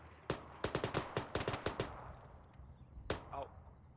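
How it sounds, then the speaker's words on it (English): Gunfire from the embassy in Arma 3: a rapid burst of about ten sharp shots, followed by a lone shot with a short echo, moderately distant with faint ambience. "There's also shooting coming from the embassy"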